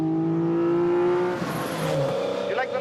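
A 400-horsepower Mini WRC rally car engine drones loudly from inside, then rises in pitch as it revs and accelerates, with speech partly over it.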